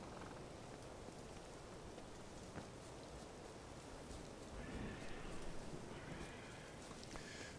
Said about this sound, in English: It's absolutely chucking it down in the rain